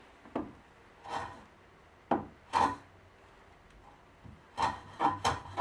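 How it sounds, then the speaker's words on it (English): Sandpaper rubs along the edges of a wooden desk leg in short separate strokes, each a soft close scratch with pauses between, quickening into a quick run of strokes near the end. "I first softened the edges with sandpaper and then additionally chamfered the underside."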